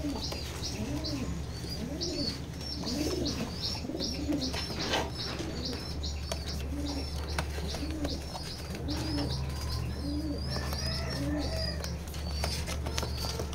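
Red checker pigeons cooing, one of them a big-sized bird, a repeated series of soft throaty coos rising and falling in a steady rhythm, close by, over a constant hum with chirps of other birds and a brief flutter of wings.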